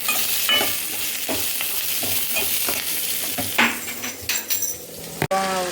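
Onions and curry leaves fry in a pan with a constant sizzle, stirred by a utensil that scrapes and clinks against the metal in irregular strokes, loud and close with no talking.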